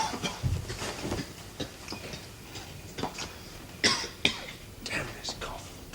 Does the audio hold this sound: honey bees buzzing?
no